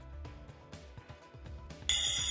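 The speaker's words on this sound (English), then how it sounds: "Your alarm is going off?" Over a soft, rhythmic musical pulse, a bright electronic alarm tone cuts in near the end, loud and steady.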